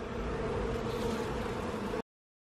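Honeybees buzzing at an open hive during an inspection, a dense steady drone of many insects held close for about two seconds before cutting to silence.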